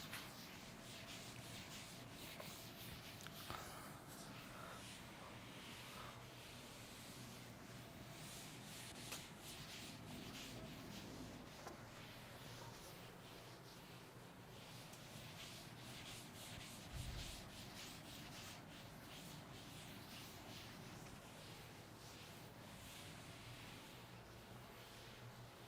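A writing board is rubbed clean to erase it, a faint, continuous scrubbing and rubbing in short back-and-forth strokes that runs steadily throughout.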